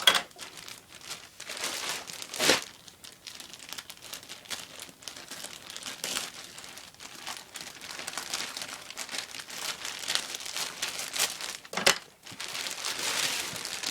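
A package of Arktis gear is handled, opened and cut, giving close, continuous plastic crinkling and rustling with a few sharper tearing bursts.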